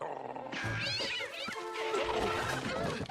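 Cat meows rising out of a cartoon movie soundtrack, several drawn-out, wavering cries over background music and effects.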